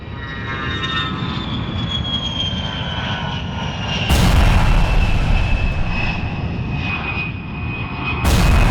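A propeller airplane engine drones steadily and close by, its pitch sliding slowly downward, with sudden loud bursts like explosions cutting in partway through and again at the end.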